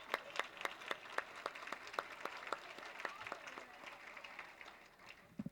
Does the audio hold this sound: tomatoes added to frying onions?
no